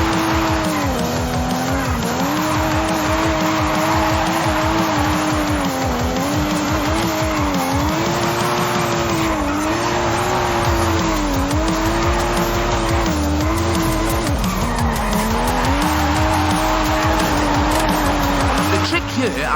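A race car drifting in Forza Horizon 5, tuned with roughly 700 extra horsepower: a steady high engine whine with a wavering pitch and a continuous screech of sliding tyres, loud and close throughout.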